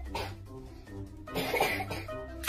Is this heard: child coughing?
yes